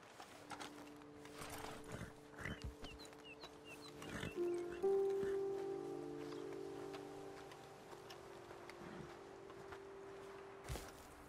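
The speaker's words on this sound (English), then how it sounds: "Best leave the horses back a bit." Horses in the Red Dead Redemption 2 game shuffle and step with soft clip-clops and an occasional snort near a roadside ledge, fairly faint beneath a steady ambient bed with low tonal music.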